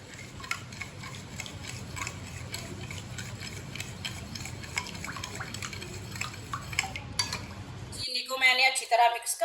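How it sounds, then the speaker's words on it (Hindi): A spoon clinks and scrapes around a bowl while sugar is stirred into tamarind water, a steady run of small metallic taps and liquid swirls, ending in a brief burst of louder clatter. "चीनी को ना अच्छी तरह मिक्स कर लेंगे पानी में"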